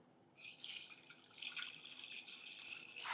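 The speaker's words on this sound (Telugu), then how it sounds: "ఇందులో మనం వాటర్ వేసుకుందాం" Water poured into a cooking pot over spices and black pepper for a home remedy drink, a steady close splashing stream that starts after a brief quiet moment and runs to the end.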